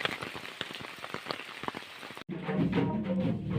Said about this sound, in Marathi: मुसळधार पावसातून निघालोय आम्ही